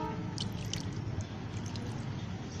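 Water is poured into potting soil in a small eco-friendly coaster planter for growing tomatoes, giving a soft, steady trickle with wet squishing and faint drips, close and low in level.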